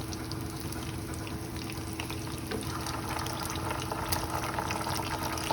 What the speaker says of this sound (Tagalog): pinalamig ko muna yung chicken bago natin i-fry ulit